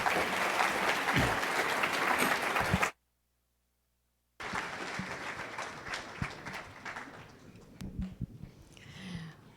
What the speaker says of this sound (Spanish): Démosle un fuerte aplauso de bienvenida a nuestra ponente, Ana Yukelson.